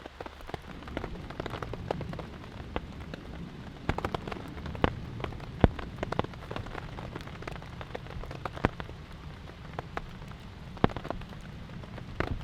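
Heavy rain pours down on a wet campsite, a dense steady hiss with frequent louder drops smacking nearby surfaces, constant throughout with no talking.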